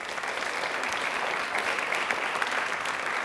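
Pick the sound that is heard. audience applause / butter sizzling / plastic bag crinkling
audience applause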